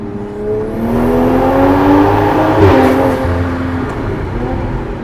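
Tuned stage 2 Toyota Supra engine and intake roar loudly and steadily as the car accelerates, the pitch climbing in sustained revving sweeps heard from inside the cabin, with no talk over it.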